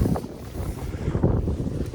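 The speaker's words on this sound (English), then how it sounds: "This is really, really super duper windy, guys." Strong gusty wind buffeting an open outdoor spot near a truck, low rumbling blasts of wind noise rising and falling in close, uneven pulses.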